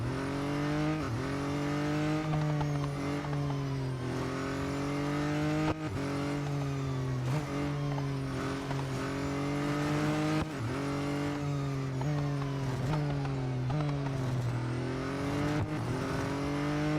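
Race car engine from a McLaren in the Real Racing 3 mobile game at a track day, a loud continuous roar with repeated rising revs and sharp upshift drops, no talking.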